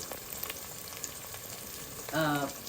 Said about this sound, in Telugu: ఉల్లిపాయలు పచ్చిమిరపకాయ ముక్కలు